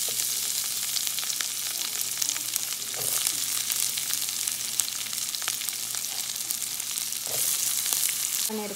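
Onions dropped into hot ghee and butter with cardamom, cinnamon and cashews set off a steady, close, loud sizzle that holds for several seconds with faint stirring scrapes.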